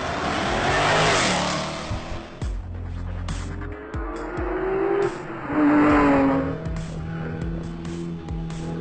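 Rally car engines roar and rev through a twisty Tour de Corse road stage in Corsica, loud rising and falling engine notes with gear changes as cars accelerate hard and sweep close past.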